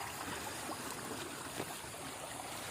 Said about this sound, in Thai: นี่มันจะมีน้ำไหลไปแบบนี้เลย